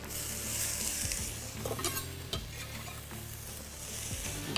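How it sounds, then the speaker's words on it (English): Julienned onions sizzle in melted butter in a pan, a steady close frying hiss broken by a few clinks and scrapes as they are tossed; no voice is heard. "we're just gonna toss those in the pan with the butter"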